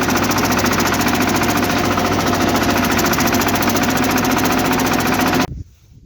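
A Shifeng 244 mini tractor engine runs loud and close with a steady, rough knocking chug, then cuts off abruptly near the end, leaving near silence.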